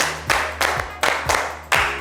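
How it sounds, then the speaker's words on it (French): Five separate loud hand claps ring out at uneven intervals on a TV talk show set, each a sharp burst with a short ringing tail, and no talking. "tout le monde, on applaudit pour lui"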